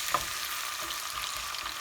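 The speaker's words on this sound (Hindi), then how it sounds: "अब टमाटरों को भी हम हल्का सा भूनेंगे" Tomatoes and ginger fry in a pan, giving an even, close hiss of sizzling with faint stirring bumps underneath, steady and unbroken over a short stretch with no voices.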